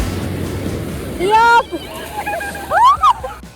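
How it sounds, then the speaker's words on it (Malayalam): Sea waves washing up on a beach at night, a steady rushing surf heard under loud, excited voices of people calling out close by. "തിരമാല വരുന്നുണ്ട്"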